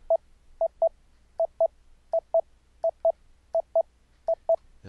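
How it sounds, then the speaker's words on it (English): Short tone bursts from a Mumble voice chat test, each test tone followed closely by its loopback returned from the server, the pairs repeating steadily over a quiet background. "Now that second tone is the mumble loopback coming back from the server"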